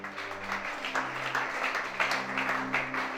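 A church congregation applauding, a moderate steady patter of many hands clapping in a room, with a sustained low tone beneath.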